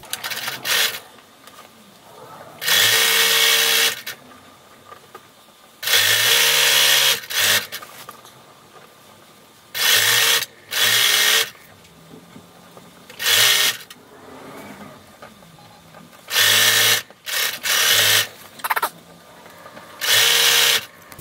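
Sewing machine stitching a 1/4 inch double-fold hem on the front edge, sleeves and bottom of a kid's robe, running in loud, close bursts of a few seconds each with quiet pauses between.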